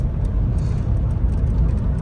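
A 2000 VW Beetle with an 01M automatic transmission rolls along the road, a steady low engine and tyre rumble heard from inside the car with faint intermittent rattles above it.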